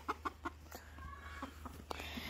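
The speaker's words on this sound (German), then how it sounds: "Hier sind unsere Hühner." Several farmyard chickens cluck in short, quiet bursts, a few evenly spaced calls followed by softer scattered clucks nearby.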